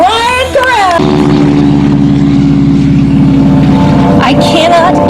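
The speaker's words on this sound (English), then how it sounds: "I cannot get over the sound of those radial engines." Radial aircraft engines performing at an air show roar loud and steady with a deep droning tone, after a brief burst of voice at the start.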